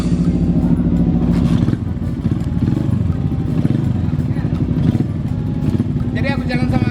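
Motorcycles from a motorbike gang rumble and rev loudly close by as they set off, engines droning steadily, with voices talking over the noise.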